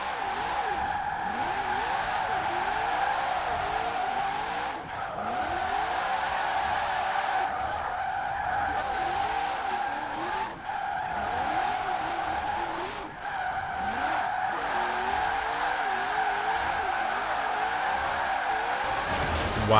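Tires on a Hoonigan Ford Bronco truck screech in long, continuous skids in the Forza Horizon 4 driving game, the squeal wavering and dipping briefly several times over a steady engine drone.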